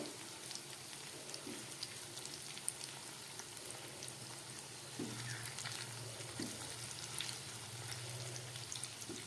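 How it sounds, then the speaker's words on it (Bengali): A steady, soft sizzling hiss of chicken pakoras frying in oil continues throughout, with faint crackles and no talking. "এই চিকেন পকোড়াগুলো ভেজে নিচ্ছি আমি"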